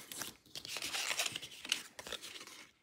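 Scissors snip through paper card along drawn lines for a pop-up birdhouse card, close-up rapid crisp cutting and crinkling sounds in an irregular rhythm.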